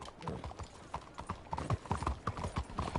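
Horse hooves clip-clop steadily in Red Dead Redemption 2 as the horse walks through a large town, a close, uneven run of hoofbeats, with no talk.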